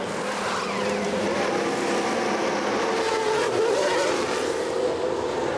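A Formula 1 race car in F1 Manager 22, driving a Williams down the pit lane, gives a steady, loud engine whine that holds at one level for the whole stretch with no talk over it.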